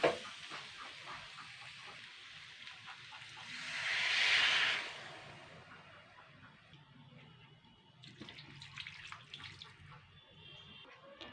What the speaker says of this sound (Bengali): এরপরে আমি জল দিয়ে দেবো